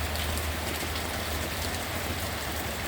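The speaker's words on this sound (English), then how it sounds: "Pouring rain." Pouring rain in a New England rainstorm, a loud, constant hiss of drops hitting surfaces with a low rumble underneath, unbroken and even throughout.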